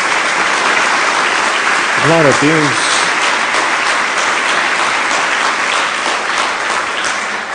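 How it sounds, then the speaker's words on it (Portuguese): A church congregation gives loud, sustained applause for Jesus during a sermon, with thick, continuous clapping up close while a voice calls out briefly partway through. "Dê uma salva de palmas a Jesus."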